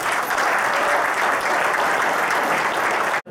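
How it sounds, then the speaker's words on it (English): Applause for award nominees at a community service awards fundraiser, a dense burst of many hands clapping at close range, sustained and even before cutting off abruptly. "please give a little round of applause"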